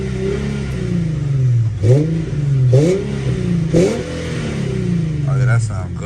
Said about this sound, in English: About to give y'all some revs.